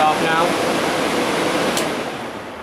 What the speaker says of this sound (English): Well, I prefer the sound of this air conditioner over many new air conditioners.